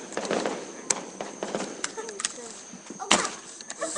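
Fourth of July fireworks fire from a metal launcher, with a few sharp pops and bangs under lively outdoor talking.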